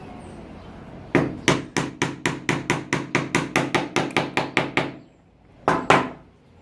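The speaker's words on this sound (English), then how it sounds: "get your piece of wood and hammer the nail in the middle" A hammer drives a nail into a piece of wood in a steady run of about fifteen sharp, close strikes, then a pause and two final blows.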